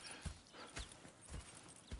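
Horses in the Red Dead Redemption video game clop along with soft, regular hoofbeats, four distinct strikes within a couple of seconds, faint and close.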